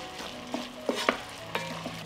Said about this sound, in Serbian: dodat ću paradajz i nastavit ću da pržim dok paprika i paradajz ne omekšaju